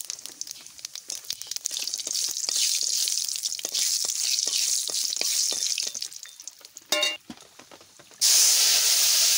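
Cumin seeds and whole garam masala fry in hot oil for a mutton curry, a loud, dense crackle and hiss close by with sputtering pops, briefly interrupted before a sharp surge of sizzling.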